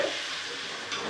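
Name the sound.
paneer and potatoes frying in a pan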